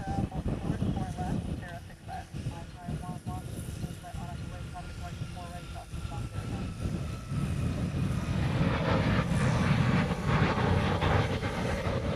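A steady airplane engine roar near Honolulu airport (HNL) during reverse operations swells louder toward the end. Voices murmur underneath.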